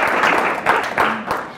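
Lecture audience clapping briefly in a hall, a short burst of fairly loud applause with a few distinct louder claps standing out, while a voice is briefly heard over it.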